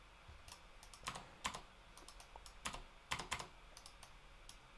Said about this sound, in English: I'll press tab and I'll press space